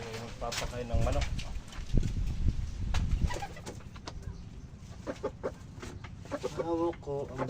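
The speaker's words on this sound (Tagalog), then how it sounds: "Tayo ay magpapakain ng manok." Chickens cluck and coo at feeding time close by, short repeated calls over a loud voice talking and handling noise early on.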